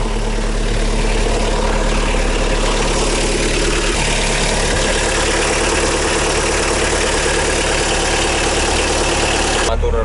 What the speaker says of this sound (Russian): Мотор мы завели